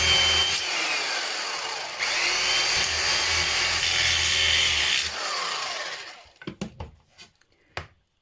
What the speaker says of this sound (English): I'm going to drill 2 holes through like this.